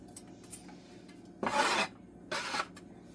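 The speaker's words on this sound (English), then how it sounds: "You can see I'm scraping and lifting these potatoes with this bench paddle" A bench paddle scrapes and lifts potatoes headed for a soup pot, two distinct rasping scrapes close by against a quiet background, with a few faint taps between them.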